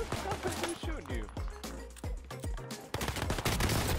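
Rapid gunfire from the video game Warzone crackles in dense bursts, loud and close, mixed with a player talking over the shots.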